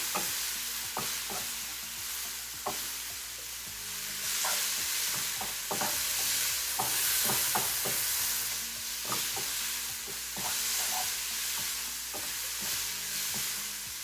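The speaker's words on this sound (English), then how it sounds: "you need to cook a mushroom 2 to 3 minutes" Sliced mushrooms cook in a pan for an omelette, giving a steady close sizzle broken by frequent sharp taps and scrapes of a utensil stirring them, with no talking.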